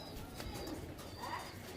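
A male Naptha pigeon in a loft cooing softly, low throaty coos under a faint rustling background, with brief chirps and wing flutters nearby, no speech.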